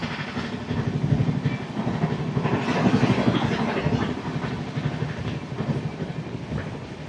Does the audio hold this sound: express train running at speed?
yes